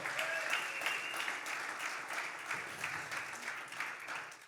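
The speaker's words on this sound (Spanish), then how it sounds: "denle un fuerte aplauso al Señor" A church congregation applauds during a service, the clapping steady and fairly dense at moderate distance, filling the room for a few seconds with a faint murmur beneath.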